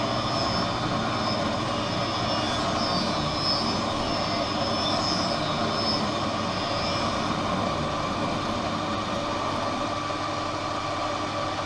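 A lens edging machine puts a safety bevel on an eyeglass lens for RayBan 6182 frames with Transitions gray lenses, producing a continuous loud mechanical whine and grinding drone with faint higher tones.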